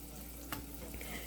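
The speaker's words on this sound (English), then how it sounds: "You're frying your bread in butter." Bread frying in butter in a pan gives a faint, steady sizzle with a brief scrape or stir in the middle, close and quiet, with no talk.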